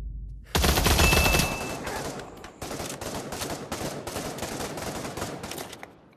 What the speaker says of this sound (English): About to shoot me, am I?